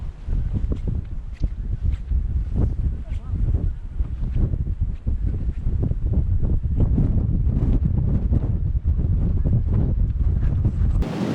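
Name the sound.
strong wind on a flat marsh walk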